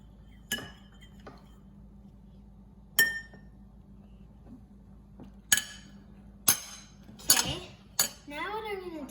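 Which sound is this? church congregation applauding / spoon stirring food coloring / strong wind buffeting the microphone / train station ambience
spoon stirring food coloring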